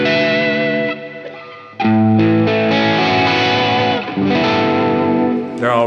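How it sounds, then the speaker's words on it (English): Electric guitar played through a Silktone germanium fuzz pedal, giving chiming, slightly distorted sustained chords and notes that ring loud and full, with a brief dip in volume before the playing swells again. "slightly distorted fuzz sounds."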